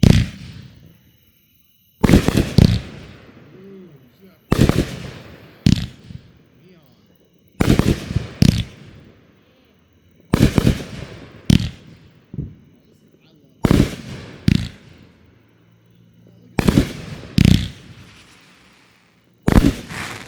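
A backyard Neon Road fireworks cake from No Name fires a series of sharp, loud bursts in clustered pairs and triples, each with crackling decay, with quiet gaps between volleys and faint voices in the background.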